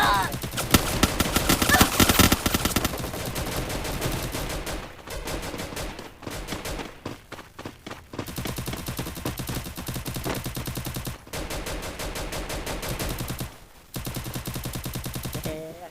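Rapid automatic gunfire rattles through a Free Fire mobile battle game in long, dense bursts separated by brief pauses, loud and close.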